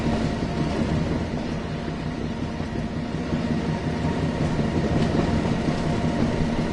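A train shunting in the Train Sim World 2 video game, a steady loud rumble of rolling railcars with a faint clickety-clack running throughout.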